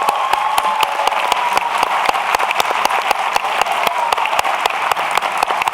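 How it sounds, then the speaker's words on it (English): A crowd at a Martin Luther King Jr. commemorative ceremony claps in unison, sharp, evenly spaced beats repeating steadily over a softer bed of scattered applause, loud and close. "let's give them another round of applause, please"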